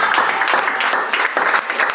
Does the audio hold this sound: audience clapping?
yes